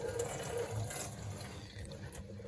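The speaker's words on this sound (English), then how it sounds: "Okay, the water is on." Water runs over a 2008 GMC Acadia SLT while leaks are traced inside the door, heard from within the car as a steady, muffled wash with no talking.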